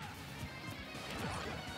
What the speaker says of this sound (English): The dash attack costing Pluto everything.